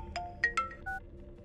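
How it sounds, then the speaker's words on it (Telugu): A mobile phone ringtone plays a short melody of distinct electronic notes, faint and alone, in a movie scene. "ఇది ఫోన్ చేస్తున్నాయేంటి?"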